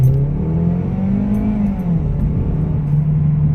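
A 2017 Ford Focus SE revs hard in a low gear in sport mode, its engine note rising, dipping briefly, then steadying in a loud, close, continuous whine with no talking.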